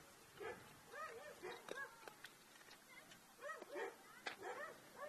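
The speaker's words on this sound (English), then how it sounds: "The dogs are barking." Dogs next door barking and yipping near a boys' baseball game, repeated short barks in irregular clusters, faint and distant, with a few sharp ticks in between.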